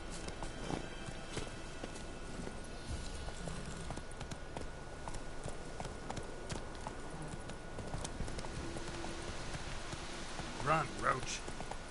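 Geralt's horse Roach from the video game Witcher 3 trotting on, hooves clip-clopping in a quick steady rhythm at low level under ambient game sound, with a brief voice near the end.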